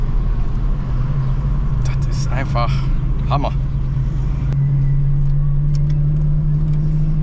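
A 1970s Ford Capri 2600 RS drives with a steady, close engine drone and a rising tone as it accelerates, while someone talks over it from inside.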